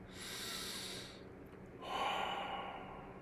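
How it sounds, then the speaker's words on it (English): A slow, deep breath heard up close: a long airy inhale, a short pause, then an equally long breathy exhale, soft and alone. "Take a slow, deep breath."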